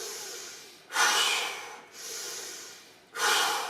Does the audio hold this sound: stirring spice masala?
no